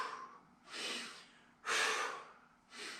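Three strong, breathy exhalations during a bodyweight exercise in a home dryland strength workout, each a loud, near rush of air about a second apart, with quieter inhalation between.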